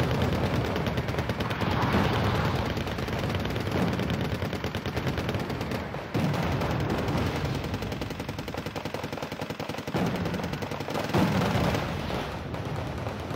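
Tank guns firing in a Wargame real-time strategy match, a dense, continuous barrage of cannon and gunfire with repeated heavy booms over a steady roar of battle, loud throughout with no talking.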